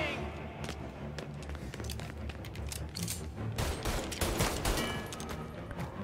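Video game gunfire inside a church in Mafia: Definitive Edition, a dense burst of sharp shots with running footsteps, heard under someone talking.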